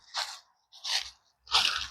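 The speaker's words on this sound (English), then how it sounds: "Leaves are pretty crunchy underfoot." Three separate crunchy footfalls on dry autumn leaves in a park, close by and evenly paced, each a short crackling burst with quiet gaps between.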